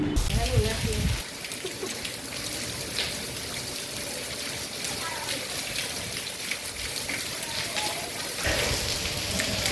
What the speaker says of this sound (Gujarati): સૂત્રાપાડાના ગ્રામ્ય વિસ્તારોમાં વરસાદનું આગમન થયું છે